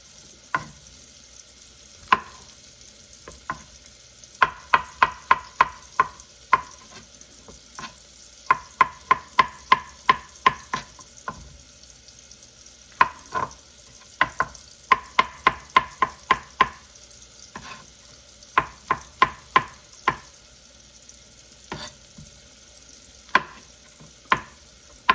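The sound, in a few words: mushrooms and onions sautéing in a pot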